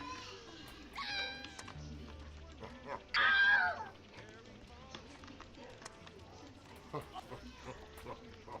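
A cartoonish cat meow sounds in a Roblox game, short and bright among game effects and background noise, with a louder burst partway through.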